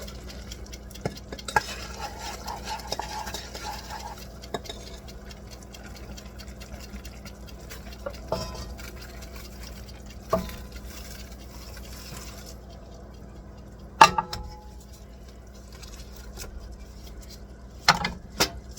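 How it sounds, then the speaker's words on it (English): Quiet scraping and stirring of hot toffee being spread over graham crackers in a pan, with occasional sharper clicks and taps from the utensil. "We're going to spread it out. So it coats all the graham crackers."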